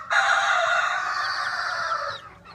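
A backyard poultry hen kept with her chicks in a brooder gives one loud, sustained, strained call lasting about two seconds, then falls quiet, close to the listener.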